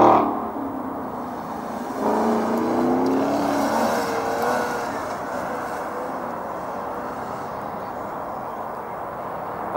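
A Porsche launches on an autocross competition run on a dry, cold course around 35 degrees, its engine note swelling to a loud, close roar after about two seconds and then holding steady as the car pulls away.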